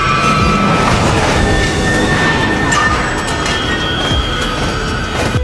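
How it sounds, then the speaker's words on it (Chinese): A train bears down on a battered car stalled across the tracks in a film scene: a loud, continuous rushing roar with steady tonal layers runs throughout, and short harder bursts break through near the end. "眼看火车越来越近，汽笛声越来越响"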